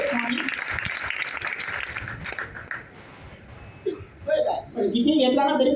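An audience claps together for a few seconds at an introductory meeting on a lifestyle business plan, the applause thinning out before voices and talk take over.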